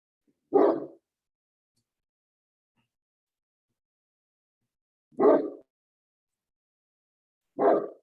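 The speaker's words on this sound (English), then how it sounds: "I'm going to mute myself and send out the dog." A dog barks three separate times indoors, each a short single woof, with long quiet gaps between the barks.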